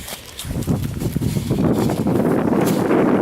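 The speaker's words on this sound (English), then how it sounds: "I know it's going to be windy, and I'm sorry for that" Gusty wind buffets the microphone with loud, low rumbling that builds and stays heavy, drowning out any other sound.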